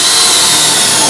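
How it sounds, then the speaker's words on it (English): Power drill boring a plug weld hole through two layered pieces of car frame rail metal on a 1970 Challenger, a loud continuous high-pitched grinding whine filling the short stretch with no voices. "You can definitely drill a plug weld hole, even though those two pieces of metal are together."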